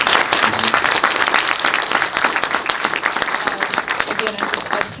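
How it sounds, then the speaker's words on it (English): Audience applause and cheers for Kirk Hammett at a live talk event, a loud, dense wall of clapping and crowd noise sustained for several seconds, with voices mixed in. "Round of applause, everybody."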